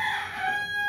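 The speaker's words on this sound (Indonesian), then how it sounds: "Ini pitik kok petok-petok mulu ya." A chicken gives a sustained, tonal crowing call, loud and close, clear above a quiet indoor background.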